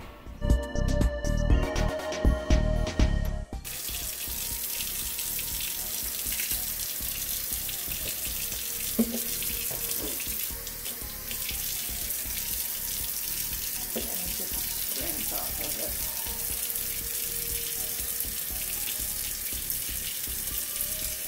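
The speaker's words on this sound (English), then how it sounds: "wash the hands" A kitchen tap runs steadily into the sink during handwashing while potato salad is being made, following a short burst of louder noise at the start.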